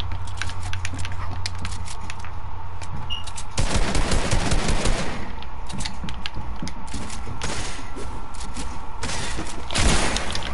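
Gunfire in a PS4 shooter game: rapid bursts of shots crackle in two dense clusters, with a steady game background hum and faint clicks between volleys.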